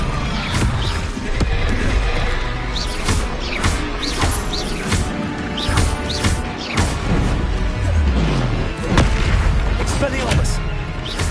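In the Hogwarts Legacy video game, spell casting during combat sets off dense, booming magical impacts and crashes, loud and close, with a voice speaking over the fight.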